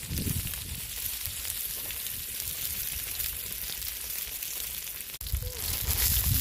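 Tilapia coated in semolina and spices fries in oil in a pan over a wood-fired stove, a steady, dense sizzle that fills the whole stretch with a brief dip near the end.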